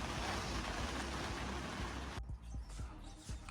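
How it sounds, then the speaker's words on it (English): Rain falling on a DIY retractable awning, a dense hiss of drops that suddenly thins out near the end, leaving scattered heavier drips and taps. "it's been raining for a bit"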